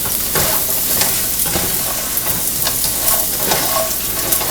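Potatoes fry in a pan with a loud, steady sizzle, close up. Scraping and shuffling sounds come through as they are flipped and stirred, with no speech.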